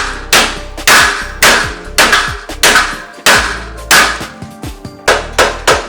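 Repeated heavy hammer blows on a BMW shock absorber stuck in its steering knuckle, about a dozen loud metallic strikes landing in uneven bursts with short ringing decays between them.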